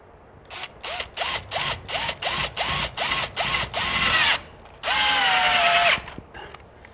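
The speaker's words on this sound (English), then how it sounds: "I'll put the 2 bottom screws in." A power drill drives screws into a deck post set on concrete: about nine short, evenly spaced whirring bursts, then two longer sustained runs, loud and close, with no talk.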